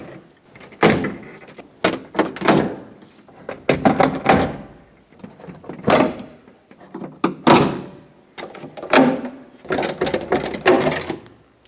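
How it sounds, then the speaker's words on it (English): Plastic push clips being popped out of a 1999-2025 Ford E-350 cargo door panel, a series of sharp close snaps and thunks with plastic creaks and rustling between them, coming in quick irregular bursts. "Just pop out all the push clips."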